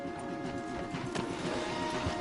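Horses' hooves clop steadily on the ground in Red Dead Redemption 2, several animals moving at once in a close, continuous patter with light ambient noise.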